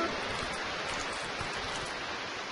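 Rain pours over a boat during a storm in the video game Octodad: Dadliest Catch, a faint, steady hiss of rainfall continuing evenly throughout with no voices.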